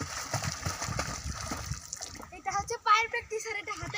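Water splashes and sloshes in a large outdoor swimming pool near Paschim Par bazaar in Kotalipara, Gopalganj, with children's voices chattering over the churning water and a few louder splashes toward the end.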